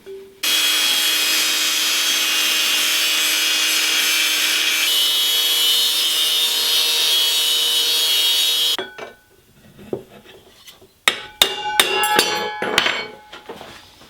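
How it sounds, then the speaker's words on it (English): An angle grinder cuts off the rivet on a Zebra cooking pot handle, whining loudly and steadily for about eight seconds, then stops, followed by scattered metallic taps and clanks. "I used an angle grinder, but you could use a hacksaw and saw it off if you wanted."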